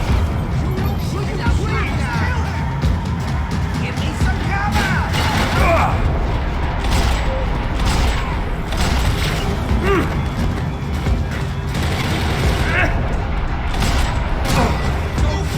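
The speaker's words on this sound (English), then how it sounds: "Gunfire over Hoboken." Gunfire in the video game Max Payne 3, set over Hoboken: a dense, continuous wash of shots, booms and crashes under a steady loud game soundscape, with no break across the whole stretch.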